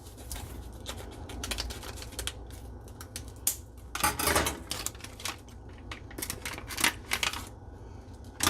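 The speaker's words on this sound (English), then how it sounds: "We will resort to scissors." Crisp, irregular scissor snips and crinkling as a military MRE ration package is cut open close by, in short bursts with brief pauses, no talking.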